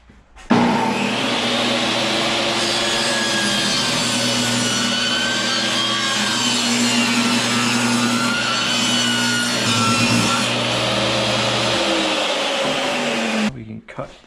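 A power saw rips steadily through shed shiplap set to a 5-degree bevel, one continuous loud cut of about thirteen seconds that starts and stops abruptly, with a droning motor hum underneath.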